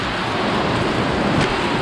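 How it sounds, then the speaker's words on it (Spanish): Steady rain falling and pattering outdoors, a dense continuous hiss of raindrops close by with no talk, in dark stormy weather. "Si oyen, están las gotas de lluvia."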